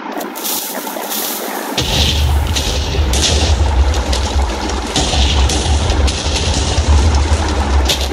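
TNT blasts in a video game set around a castle and a modern house, a run of booming explosions rolling one after another at steady loudness, with no voices over them.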